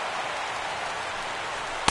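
Steady rain falling at a baseball game, a constant soft broadband wash with no pauses, fairly faint and even throughout, ending with one sharp tap.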